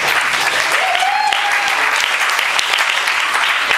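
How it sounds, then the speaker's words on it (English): A concert audience applauds steadily and loudly throughout, a dense wash of clapping with a few scattered voices underneath. "You can clap again for him when he comes back out."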